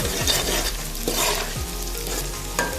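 Onions and whole green chillies frying in a pan until browning, a loud constant sizzle and crackle close up, with a few clanks of a utensil stirring.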